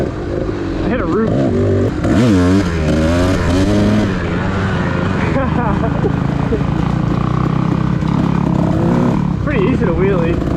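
A 1998 Kawasaki KDX 220 two-stroke dirt bike revs and pulls on a trail ride, its engine note rising and falling continuously while a rider talks over it for most of the stretch.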